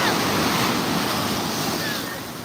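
Ocean surf at Clearwater Beach, Florida rolls in as a steady, loud, broadband wash of big crashing waves, with some wind buffeting the microphone.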